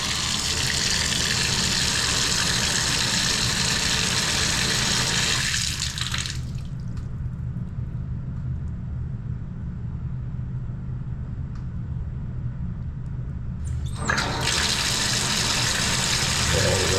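Tap water gushes into a sink while a pop-up drain is tested for holding water, a loud steady rush that stops for several seconds midway and then starts again.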